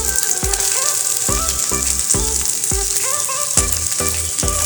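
Onions sizzling and frying in hot mustard oil in a pan, a steady dense crackle with stirring clatter running throughout, close and loud, with no talking.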